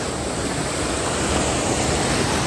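Water pours steadily at a waterfall in the Kaghan Valley, a dense, continuous rushing hiss that is fairly loud and close, with no talking.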